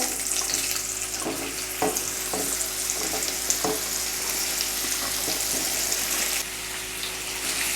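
Raw mango pieces sauté in a pan of oil tempered with asafoetida, a dense hissing sizzle with a string of sharp stirring clicks and scrapes, fairly close and steady throughout.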